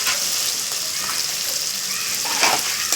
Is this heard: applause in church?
no